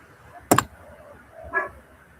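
A dog gives one sharp, close bark, followed a second later by a softer short yip, in a quiet room at a lock-disassembly workbench.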